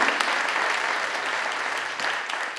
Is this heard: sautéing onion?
no